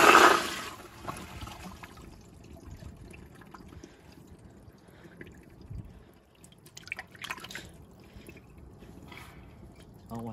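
A Toto CT705 toilet on a piston flushometer flushes with a loud burst at the start, then water rushes and drains steadily at moderate volume, with trickling and gurgling toward the end.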